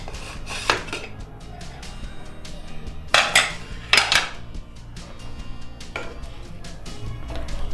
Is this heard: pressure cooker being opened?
yes